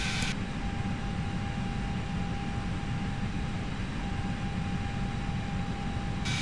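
Steady broadband roar of Airbus airliner engines in climb within the Airbus X Extended flight simulator, a constant loud drone with a faint steady tone above it and no voices.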